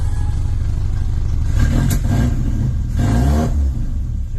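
Classic Mini engine with a suspected timing fault, running loud and close with a rough, uneven tone and two brief swells in revs.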